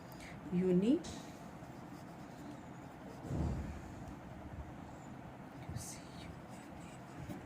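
A marker or chalk scratches across a board in a chemistry lesson, giving a few short, scraping strokes. Quiet, low talk runs underneath.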